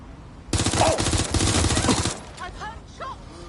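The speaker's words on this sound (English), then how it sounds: "I've heard shots!" Rapid automatic gunfire bursts in the Watch Dogs Legion video game, loud and dense for about a second and a half, then fading into quieter ambient game sounds with a few whistling tones.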